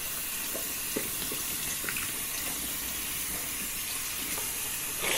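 Hot water runs from a sink tap, a steady hissing splash close by with faint clinks and knocks through it.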